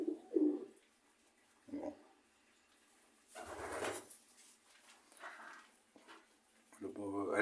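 Pigeons, including a white male, give soft intermittent coos in short separate bursts, faint and close, between quiet stretches, with a voice speaking briefly near the end.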